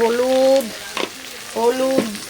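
Turmeric and salt are stirred in a frying pan, giving a soft sizzle with two distinct scraping strokes about a second apart, close and moderately loud, with faint tonal hums between them.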